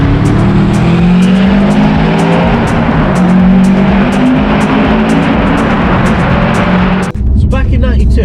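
Subaru Impreza WRX STI PPP Widetrack engine revving loudly and continuously for about seven seconds, the rally-bred car close by with sustained high revs, then cutting off abruptly near the end.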